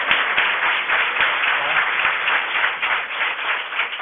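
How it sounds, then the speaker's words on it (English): Audience applause at a town council meeting in Scarborough, Maine: steady, dense clapping from a room full of people that holds evenly for the whole stretch without talk over it. "I'm going to ask you to hold your applause"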